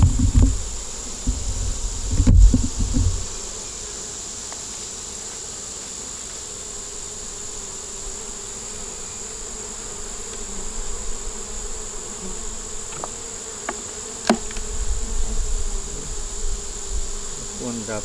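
Honey bees buzzing around a growing hive in a homemade box, a steady close drone of many wings throughout, with brief knocks and a passing bee sweeping by.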